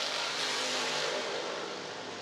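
A red, white and blue Nissan race car in a historic IMSA GTO race roars past at full speed, a loud continuous engine howl that holds steady and then eases slightly as it pulls away.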